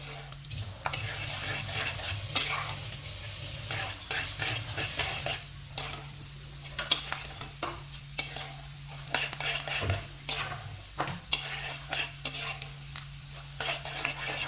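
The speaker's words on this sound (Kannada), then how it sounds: "ನೋಡಿ ಪಟಪಟ ಅನ್ನುತ್ತೆ ಸ್ವಲ್ಪ" Peanuts frying in a pan, a quiet steady sizzle broken by sharp crackling pops and scraping stirs, close and irregular throughout with a faint hum beneath.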